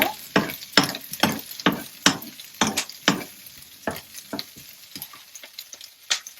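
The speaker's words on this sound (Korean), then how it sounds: "아까 그 야채를 한번 살짝 마늘, 양파, 샐러리 다 생거로도 먹을 수 있는 거니까 살짝만 이렇게 볶아준 다음에" Garlic, onion and celery lightly stir-fried in a pan for pork gangjeong: a steady sizzle broken by a regular run of sharp spatula scrapes that soften and spread out toward the end.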